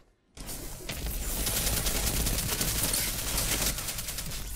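Rapid automatic gunfire from hip firing in Destiny 2 during a Rumble match at Widow's Court in the European Dead Zone, a dense, loud, continuous burst of shots that starts abruptly after a brief silence and runs without pause.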